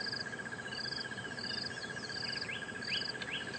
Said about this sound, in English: There's a black-backed puffback calling in the background.